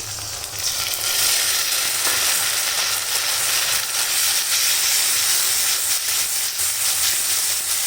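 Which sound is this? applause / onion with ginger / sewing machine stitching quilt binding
onion with ginger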